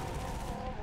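Gunfire in the Halo 3: ODST video game crackles in a dense, continuous burst for under a second, fairly faint and mixed with game noise.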